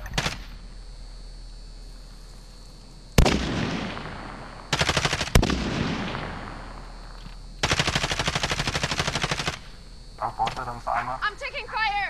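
Call of Duty Warzone gunfire: several loud bursts of rapid automatic fire in separate stretches, with sharp single cracks between them and game radio chatter around them.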